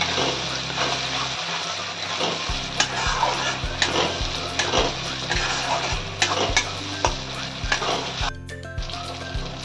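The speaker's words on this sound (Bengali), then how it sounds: "এইভাবে এইগুলো কষাতে হবে।" Drumstick flowers being stir-fried with ground spice paste in a pan, steady sizzling and frying with repeated scraping and stirring strokes of a spatula against the metal, close and continuous with no talk.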